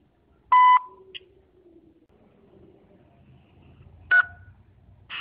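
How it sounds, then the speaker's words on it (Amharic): An automated voice message system sounds two short, loud keypad-style tones a few seconds apart, with a brief faint beep between them, over a quiet background. "እባክዎን ከቢፕ ድምፅ ቀጥሎ የሚፈልጉትን መልእክት ይግዱ"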